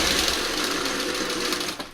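A sewing machine stitches fabric pieces together in a continuous rapid mechanical whirr, close and steady for about two seconds before slowing at the end.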